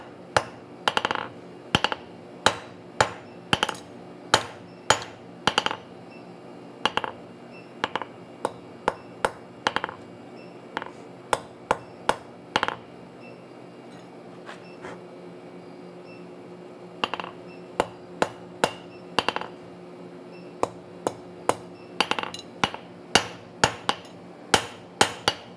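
Hammer blows forging bevels on hot steel at a blacksmith's anvil, sharp ringing metallic strikes in uneven bursts and clusters with short pauses between groups, close and clear with no talk.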